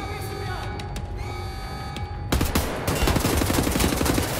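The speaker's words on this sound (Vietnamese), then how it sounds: "À, hình như hai cái shotgun." Rapid shotgun gunfire from Wolfenstein: The New Order bursts in after a steady game soundscape, loud dense blasts continuing to the end.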